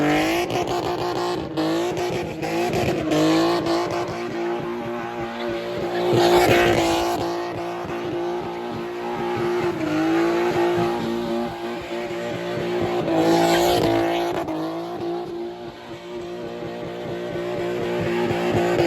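A car at a car meet holds a long, loud, high-revving tire spin with squealing rubber, the engine note rising and falling in waves, close by and continuous.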